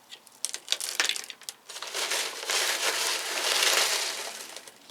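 Orchid pot being filled with potting medium while repotting a Masdevallia, close crinkly crunching and rustling that starts in scattered bursts and builds into a steady pouring rustle.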